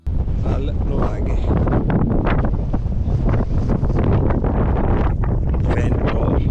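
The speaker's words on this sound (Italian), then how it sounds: "Il vento è notevole." Strong wind buffets the microphone outdoors near a nuraghe on the Sardinian coast around Costa Rei, a continuous loud low rumble and roar throughout, with a voice speaking faintly underneath.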